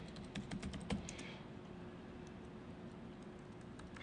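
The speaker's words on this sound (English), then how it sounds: "can people see what I'm typing on the screen back here?" Keys clatter on a computer keyboard during a live hacking demo at a Black Hat security conference, a quick burst of close taps that then thins to faint scattered clicks over room noise, no speech.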